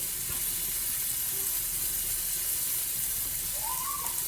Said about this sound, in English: now I'm gonna add my shrimp.